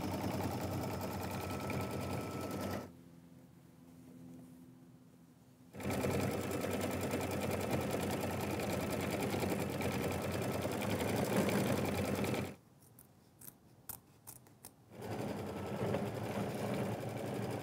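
Sewing machine stitching a tack-down on an appliqué swimsuit and flower, running steadily in two long loud bursts separated by quiet pauses with brief stop-start stitches.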